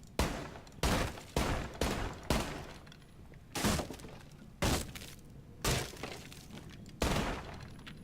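Gunfire blasting holes into the floor on the Oregon map of a shooter game, nine loud shots in short bursts with brief gaps, each carrying a crunchy, breaking rattle.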